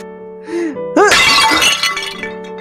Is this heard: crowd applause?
no